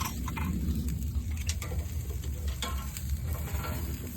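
BBQ ribs sizzle and crackle on a grill as they char, a steady close hiss of frying with scattered pops and ticks over a low rumbling undertone.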